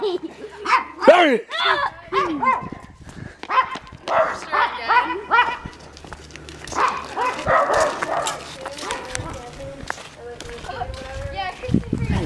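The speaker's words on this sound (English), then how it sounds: "Let's go see dogs." Dogs bark and yip repeatedly at close range while children and adults talk and shout around them, the barks coming in irregular bursts through the noisy scene.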